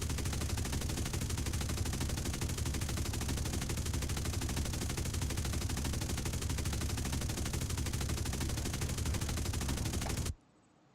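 Continuous rapid gunfire from a War Thunder replay, a dense unbroken rattle of weapons firing loud and close for about ten seconds, then cutting off abruptly to near silence.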